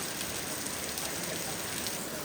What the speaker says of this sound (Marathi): पाऊस बघतोय तो पाऊस